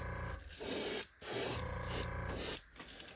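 An airbrush sprays paint onto a 110 jerkbait lure in three or four close, loud hissing bursts separated by short gaps.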